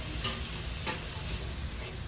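Alfredo pasta being stirred in a pot, heard as a steady, close sizzling hiss with faint scraping movement throughout.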